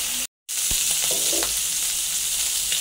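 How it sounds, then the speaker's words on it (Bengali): Fish sizzles as it fries in a pan at home, a steady close crackle with a few small clicks and stirring sounds, broken by a brief dropout near the start. "মাছ হচ্ছে ভাজা হয়ে গেছে"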